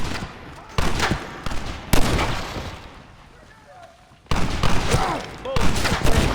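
A gunfight in the video game Red Dead Redemption, with dense bursts of rapid gunfire and booming shots, broken by a short lull, with voices shouting amid the shooting.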